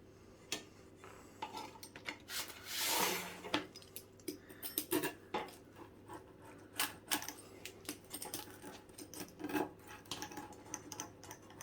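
A knife clicks and taps sharply against a board while slicing through hand-stretched pizzas, a series of separate crisp cuts spread across a quiet kitchen with no talking.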